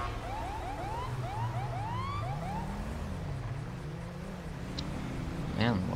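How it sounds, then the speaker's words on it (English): A police siren wails with a repeating rising sweep in FiveM GTA roleplay, loud and ongoing over engine rumble and game noise, with a short burst of sharper sounds near the end. "See the fucking lights on siren"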